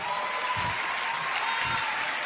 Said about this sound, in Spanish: Toda la banda, un aplauso a la banda.